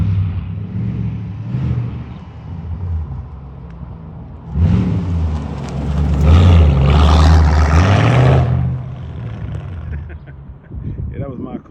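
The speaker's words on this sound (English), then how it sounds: "I hear Corey pulling up. He has my previously owned 2004 SL500. You can hear it." A 2004 Mercedes SL500 with ABC coilover suspension pulls up outdoors, its engine swelling to a loud, close pass for a few seconds before easing off, with a faint low idle on either side.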